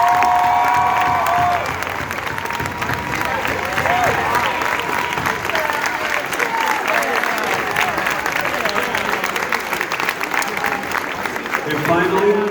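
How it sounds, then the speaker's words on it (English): A school audience gives teachers a sustained round of applause, dense steady clapping with some cheering and children's shouts, filling the hall at a fairly even level before tapering slightly at the end. "Ladies and gentlemen, can we give the teachers a round of applause?"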